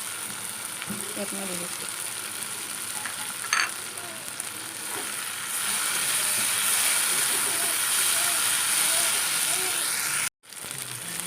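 Fried kawoi fish are tipped into a taro stolon curry, and a steady sizzle and hiss of frying fills the pan, growing louder midway, while someone speaks briefly over it.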